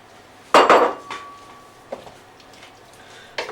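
Roughly chopped oyster mushrooms dropped into a pan for chicken jalfrezi, giving one loud clattering thump followed by a few lighter knocks and clinks of the pan.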